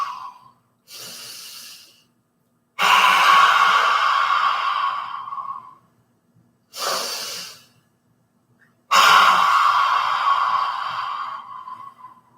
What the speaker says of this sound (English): Sticking out the tongue, really exhaling all the air.